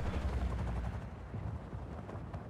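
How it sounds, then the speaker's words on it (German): Helicopters in the video game Just Cause 4 roar overhead in a dense, continuous rumble mixed with bursts of gunfire, loud and with no talk. "Wo fackeln denn die Helikopter da oben her?"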